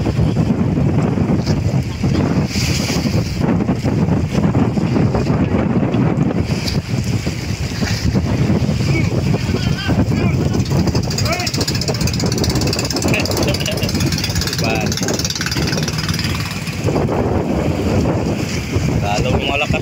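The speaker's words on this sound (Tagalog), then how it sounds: "Lalong malakas na po ang hangin" Strong wind at sea on a boat, continuous roaring gusts buffeting the microphone with wave wash and hull noise underneath, loud and sustained throughout, with voices faintly present.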